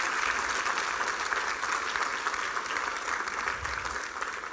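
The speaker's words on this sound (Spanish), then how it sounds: "denle un aplauso al Rey bendito" A church congregation claps loudly and continuously throughout, a thick, even roar of many hands with no pauses and no voices standing out above it.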